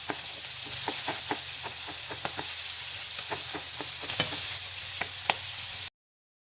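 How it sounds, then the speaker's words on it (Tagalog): Food sizzling in a hot pan while frying for a Filipino kinawali dish, a steady close hiss broken by frequent sharp oil pops and crackles, with no voices. "Ito, ongoing na rin yung pagpipirito natin."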